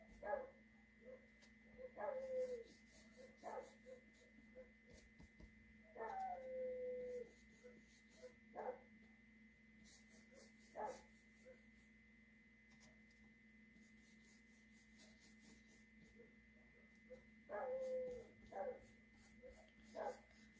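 Dogs bark and whine faintly in the background across a long stretch, with scattered short yelps over a steady hum, heard from inside while someone sets up for an art lesson painting pears.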